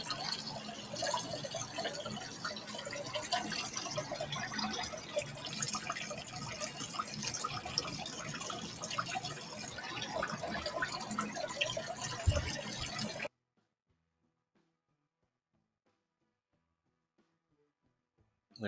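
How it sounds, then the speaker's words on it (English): Steady pouring and splashing of water being added to an indoor fish tank, continuous for about thirteen seconds before cutting off abruptly to near silence. "Need to add some more water"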